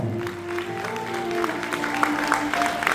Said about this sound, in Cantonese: 掌聲響邊度？